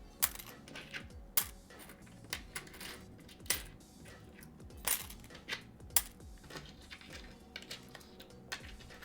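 Coins dropped into a container in a steady stream of close, crisp metallic clinks and rattles, some louder impacts standing out among quicker jingling.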